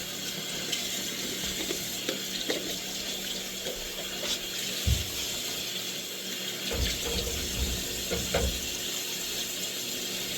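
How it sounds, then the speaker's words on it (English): Warm water runs and splashes steadily at a sink during a facial, a continuous wash with a few louder splashing bursts toward the middle and end. "So she'll just put some warm water on her face"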